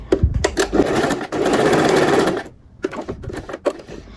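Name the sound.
sewing machine stitching trousers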